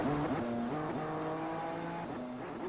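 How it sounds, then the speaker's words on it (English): A BMW M2 Cup race car at Oulton Park circuit running with damage, its engine note droning steadily with shifting tones and a rough, uneven character, heard continuously at moderate distance. "the car just doesn't sound as healthy anymore as was to be expected"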